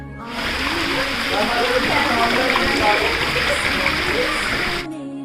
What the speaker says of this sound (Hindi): अब सुनिए बहते हुए पानी की कलकल करती हुई आवाज़